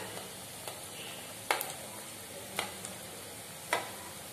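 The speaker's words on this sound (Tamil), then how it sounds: "இதுல இப்ப எண்ணெய் ஊத்தி பொரிக்கணும்." Vegetarian kola urundai, small vegetable balls, fry in hot oil in a village kitchen, giving a faint, steady sizzle broken by a few sharp ladle taps against the pan.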